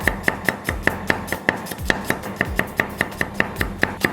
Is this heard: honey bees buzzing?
no